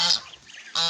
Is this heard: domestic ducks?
yes